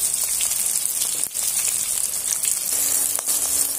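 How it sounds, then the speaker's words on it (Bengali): Fish pieces for a Bengali fish curry fry in hot oil, giving a steady, close, dense sizzle that runs the whole time with no voices. "মাছগুলো নিয়ে এবার তেলের মধ্যে দিয়ে সুন্দর করে ভেজে নেব।"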